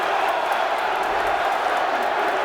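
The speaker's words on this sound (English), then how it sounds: "Look at the crowd. Listen to the crowd." A large rugby stadium crowd in Philadelphia roars continuously at a USA versus Maori All Blacks match, a dense, loud wash of cheering voices throughout.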